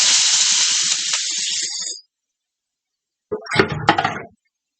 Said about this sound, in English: It's hot enough that the butter is starting to brown